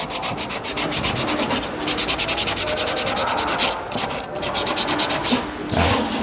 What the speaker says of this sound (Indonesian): Nah, kita amplas sampai rata